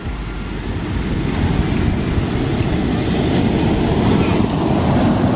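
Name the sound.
large ocean waves crashing on beach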